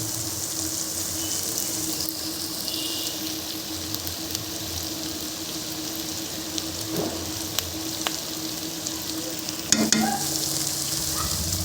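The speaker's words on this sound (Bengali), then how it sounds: "5 থেকে 6 মিনিট মশলাগুলোকে ভালোভাবে নেড়ে ভেজে তেলের উপরে" Spices stirred and fried in oil for a beef curry, a continuous loud sizzle with repeated scraping stirs and an occasional knock of the spoon near the end.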